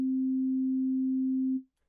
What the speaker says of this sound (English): the first wave shape I want to explain is a sine wave